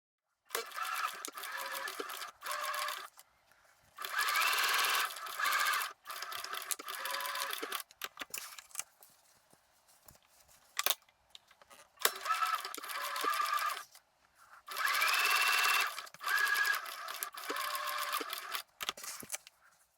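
A sewing machine stitches 5/8-inch seams joining dress neck facings at the shoulders, running in several loud sustained bursts of a few seconds each, separated by brief pauses and handling noise.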